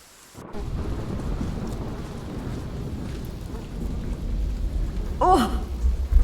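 Thunder rumbles low and heavy over steady rain, swelling near the end, with a brief chirp-like sound partway through.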